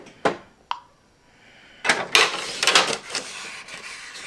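A jammed printer whirs and clunks as it pulls paper through, with a couple of sharp clicks first and then a busier stretch of mechanical rattling.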